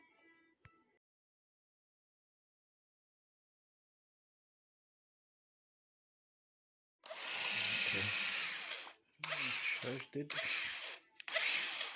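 After a long silence, a power drill used as a mixer whirs loudly in several bursts with brief stops, preceded by a faint voice at the start.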